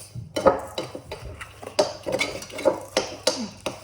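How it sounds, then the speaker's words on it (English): A utensil scrapes and clinks against a bowl while cookie cake batter is being mixed, giving irregular close taps and scrapes with no talking. "Now start mixing"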